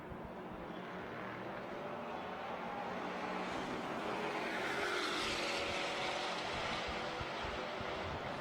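A Porsche 911S race car lapping Circuit of the Americas during a time attack event, its engine a continuous distant roar that rises slightly in pitch and loudness midway, heard alone without talk.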